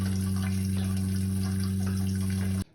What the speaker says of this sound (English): Finally, the toilet, same thing, just going to run that water until it runs clear.